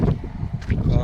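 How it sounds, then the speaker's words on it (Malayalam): Strong wind buffeting the microphone in a deep, rumbling gust during a climb to a high spot, with a voice talking over it throughout. "നല്ല കാറ്റുണ്ട് കേട്ടോ."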